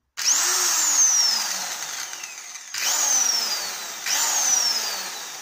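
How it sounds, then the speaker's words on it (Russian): An Elitech 350РЭ E electric impact wrench runs loud and close in three long bursts, each starting with a sharp rising whine that slowly winds down before the trigger is pressed again. "Гайковерт довольно-таки мощный, то есть при включении он так и норовит выпасть из руки."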